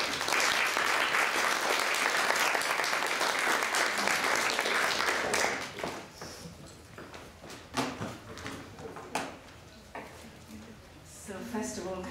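Lecture-hall audience gives a full, steady round of applause that fades after about five seconds into scattered claps, shuffling and murmurs, then swells briefly again.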